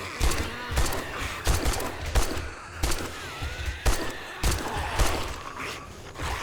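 Machine gun fire in the zombie survival game 7 Days To Die during a horde night. Loud bursts of automatic fire repeat roughly every half second to second, close and punchy, with game noise in between.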